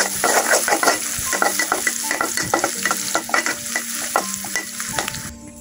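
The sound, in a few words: stirring onions and green chillies frying in a pan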